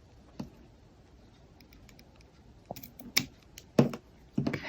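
Scissors trim gift ribbon on a bumblebee-themed present in a handful of quick, crisp snips near the end. The snips are close and fairly soft, following a quiet stretch with one faint tap.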